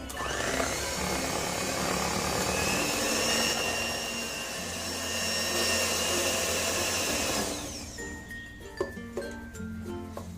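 An electric mixer whips fresh cream at first speed for ice cream, a steady close motor whir with a slight rhythmic swell, then stopping and giving way to faint clinks and handling sounds.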